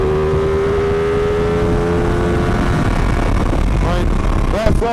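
A 2017 Ducati 959 Panigale motorcycle accelerates on a rough road, its engine note rising steadily through the revs, loud and close, with a brief shift-like blip near the end.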